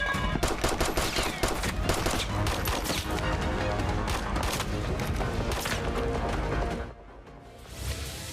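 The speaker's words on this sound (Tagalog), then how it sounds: "mainit ang eksenang barilan ni Miguelito at Santino sa FPJ's Batang Quiapo" A shootout scene from the Filipino TV series FPJ's Batang Quiapo, dense rapid gunfire fills most of the stretch with loud overlapping shots, then drops away briefly before resuming quieter at the end.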